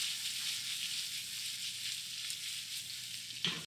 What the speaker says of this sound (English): now you want to just let that cook on medium until the onions get nice and translucent